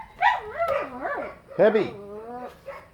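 Dogs bark and whine at a camper van yard, sharp yips and yowling whimpers rising and falling up close, with one short shouted word from a person among them.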